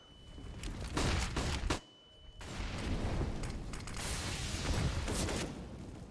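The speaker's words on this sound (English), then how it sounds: "Barrage of CT utility. Flashes, smokes, nade does chunk down Nexa and Jax" Counter-Strike utility going off on the Vertigo map: a rapid barrage of grenade blasts, flashbang pops and smoke hisses, with sharp bursts, a brief dropout, then dense overlapping mechanical clatter.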